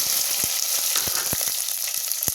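Chopped onion frying in hot oil with mustard seeds and curry leaves, a loud close sizzle punctuated by rapid crackling pops, with no talk.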